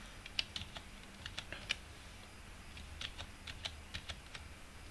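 Numbers being typed on a computer keyboard while drawing in AutoCAD: scattered light key taps in two short bursts, quiet and close, with no voices.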